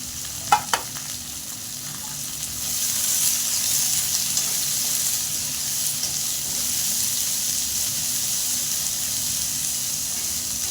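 Finely chopped onions, two medium ones, fry in a pan for a spicy Maharashtrian village-style tadka pithla, giving a steady soft sizzle with a couple of sharp clinks at the start.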